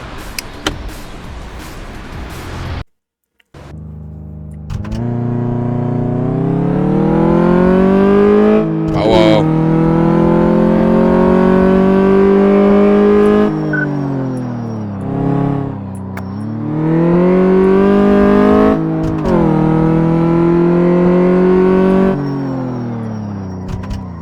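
A car engine in Car Mechanic Simulator 2014 revs through repeated rising and falling sweeps during a test drive of an Asian Cougar, loud and close, after a brief cut of silence at the start.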